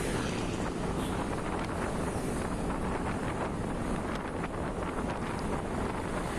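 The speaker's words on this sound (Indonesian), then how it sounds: "karena anginnya di sini memang banter banget" Strong wind buffets the microphone on the road to Nganjuk, a steady loud roar of broadband rushing and gusting that runs the whole way with no let-up, with no voices.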